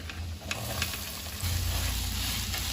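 Chopped onions and ginger fry in oil in a pan, making a steady, dense sizzle that swells louder partway through and then holds up close.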